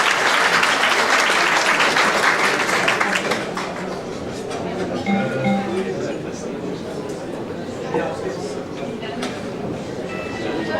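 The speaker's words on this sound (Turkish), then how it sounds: "Kuvvetli bir alkış rica ediyoruz" Strong applause from an audience swells loudly for a few seconds, then settles into softer continued clapping with chatter and voices in the room.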